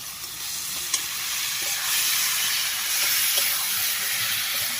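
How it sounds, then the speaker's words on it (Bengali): Fried bhetki fish bones are sautéed in spice paste, giving a loud continuous sizzle and hiss with occasional ladle taps and stirring scrapes against the pan. "ভালোভাবে কষে নেব ভেজে রাখা কাঁটাগুলো"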